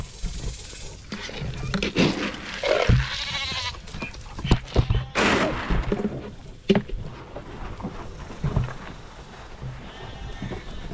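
Several sheep bleat at close range in a noisy outdoor pen during feeding, with rustling and handling sounds between the calls and no talking.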